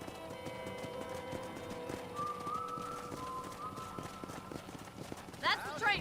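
Horse hooves clip-clop at a steady walking rhythm in the western video game Red Dead Redemption, with voices talking over the hoofbeats and a brief whistle-like tone near the end.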